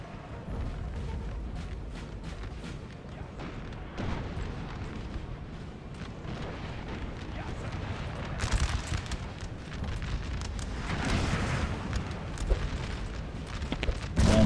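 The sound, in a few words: artillery fire hitting troops in Napoleon Total War video game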